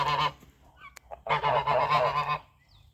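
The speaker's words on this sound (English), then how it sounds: "And we have our old geese and our old guineas." Loud geese honking on a farm in two bursts, harsh repeated calls close by with a short pause between them, no talking.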